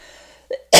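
A single sharp, loud cough bursts out near the end, preceded by a short throat-clearing noise after a quiet stretch, from someone noticing a tickle in the throat while soothing enlarged tonsils and adenoids.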